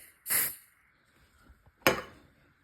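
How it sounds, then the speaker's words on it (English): Two short hissing bursts of aerosol spray aimed into a smoke detector for a test, each about a quarter second long with a quiet gap between them, close and fairly loud. "We're gonna basically spray it"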